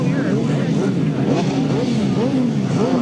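Sidecar outfit engines at a 1994 grasstrack meeting at Wimborne rev loudly and continuously at the start line, several motors rising and falling together in a dense, close roar, with a commentator talking over them.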